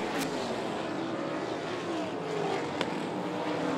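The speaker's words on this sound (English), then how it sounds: "Terry Gray out in front, showing it all by himself in that windy sprint car." Sprint car engines roaring around the 411 Motor Speedway during a USCS Sprint Cars race, a continuous loud drone with rising and falling pitch as cars pass, no voices over it.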